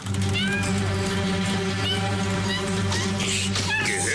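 A cat meows several times in drawn-out, wavering cries over a steady low hum of background noise.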